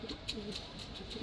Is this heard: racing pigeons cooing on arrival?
yes